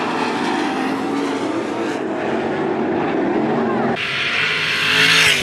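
305 sprint cars race in a heat at Attica Raceway Park, their engines roaring loudly and continuously, with a sharper, rising surge near the end as a car passes close.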